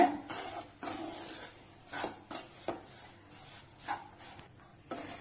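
Semolina being stirred as it roasts in a pan over a low flame, giving soft repeated scraping strokes close by, with no talking.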